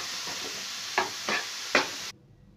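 A spoon scrapes and knocks against a pan while stirring a spice mixture with salt and red chili powder for a mixed-vegetable paratha filling, with three distinct scraping strokes over a soft sizzle that cuts off abruptly.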